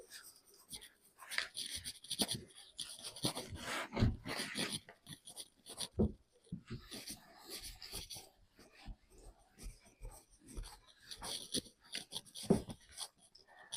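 Chalk or marker writing exam questions on a classroom board, faint scratchy strokes and taps in irregular bursts, quiet and close with pauses between words.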